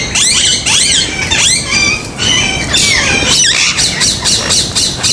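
Ring-necked parrots in a large breeding aviary at a parrot farm in Bahawalpur, squawking loudly and close in repeated harsh, shrill calls that overlap almost without pause.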